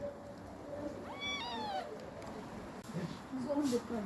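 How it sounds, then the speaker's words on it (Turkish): A single drawn-out cat meow rising and falling, fairly close, followed by quieter background voices and faint movement. "Ne kadar da güzel kedi maşallah."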